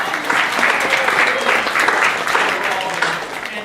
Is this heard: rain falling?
no